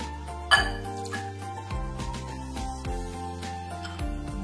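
A hand whisk stirs flour batter in a bowl for a coffee chiffon cake, giving one sharp metallic clink followed by light scraping under soft background music.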